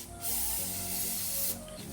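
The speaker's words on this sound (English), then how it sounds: "We're going to be cleaning a little bit with a non-residue leaving brake cleaner." Non-residue brake parts cleaner sprayed from an aerosol can onto an engine block, a steady close hiss lasting about a second and a half, with no talking.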